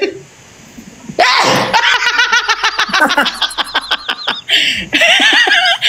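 A sudden loud sneeze bursts out, then quickly dissolves into rapid, breathy peals of laughter from nearby people.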